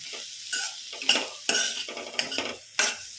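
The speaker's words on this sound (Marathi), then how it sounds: "कोथिंबीर देखील यामध्ये आपण व्यवस्थित मिक्स करून घेऊ" Spoon scraping and clinking against a pot while a green bean and potato curry with coriander is stirred, several distinct strokes at an uneven rhythm, close and fairly quiet, with no talking.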